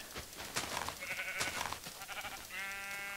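Sheep bleating in the video game Minecraft, several short wavering calls in quick succession ending with a longer sustained bleat, heard close and clear with no talking.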